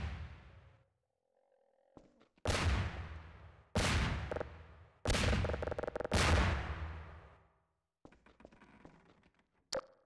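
Explosions in Half-Life 2 Episode 2, a series of four loud, booming blasts in quick succession, each decaying with a rumbling tail, followed by scattered debris clatter and one sharp final crack.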